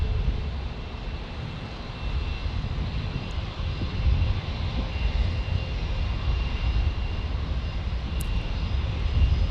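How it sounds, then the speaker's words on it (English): A Frontier Airbus A320neo taking off at San Diego airport produces a steady jet engine rumble, moderately loud and fairly distant, slowly building in the low end, with no voices. "Frontier's going to sneak in here and take off."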